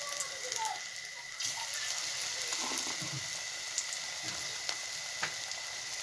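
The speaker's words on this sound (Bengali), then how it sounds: "এবার আমি পকোড়াগুলো ভেজে নেব।" Leaf pakoras, made from bitter pointed gourd leaves, frying in hot oil in a wok, giving a steady crackling sizzle that runs continuously throughout with no talking.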